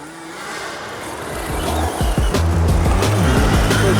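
A Traxxas Slash RC car races past with a rising, whining electric motor and rattling tires on the track, getting louder and closer, with brief squeals and rapid pitch sweeps.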